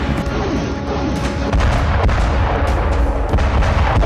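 Repeated heavy blasts and booming impacts from missile strikes on a Ukrainian weapons depot storing missiles, loud and continuous with low rumbling thuds and crackling debris, no talk.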